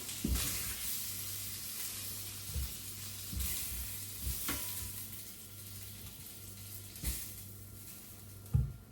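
Steady crackling sizzle of bacon frying in a pot, with a few sharper clinks and stirring bumps scattered throughout, close and moderately loud.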